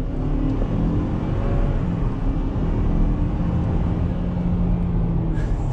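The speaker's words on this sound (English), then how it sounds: "can you hear the turbo a little bit?" A 2021 Ford Ranger XLT Sport with its turbo engine accelerating, a steady low drone under road and wind noise heard from inside the cabin, with a faint whine running through it.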